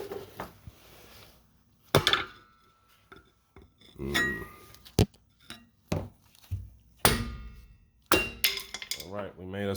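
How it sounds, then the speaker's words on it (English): A hammer knocks a rear brake part loose on a Toyota Avalon XLS, giving about a dozen sharp, irregular metallic strikes close by, with a short voice near the end. "we're gonna bang it the rest of the way out with the hammer"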